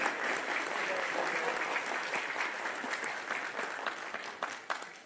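Sustained applause from an audience at a Peruvian Congress forum on agro-exports and employment, greeting the first vice president of Congress; dense, steady clapping holds across the whole stretch with a few sharper claps near the end.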